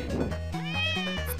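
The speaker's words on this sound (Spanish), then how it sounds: "Ahí está el gato diabólico." A cat meows loudly and close in the Nyan Cat game, a drawn-out wavering call over a steady electronic backing.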